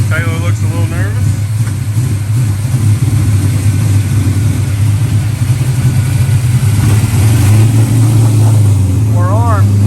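A Ford SN95 Mustang engine on a nitrous hit, fitted with a Holley Sniper, roars loud and steady, building in intensity toward the end, with brief whistling squeals.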